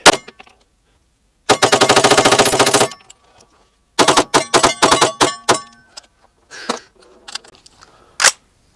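Rapid rifle fire from a PSA Jakl chambered in .300 BLK during a 1,000-round torture test: a loud sustained burst, then a string of quick shots and a few scattered later rounds, each crisp and close.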